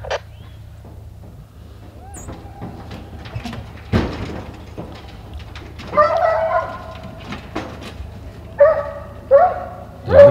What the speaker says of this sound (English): Joseph, I can't hear nothing for these dogs.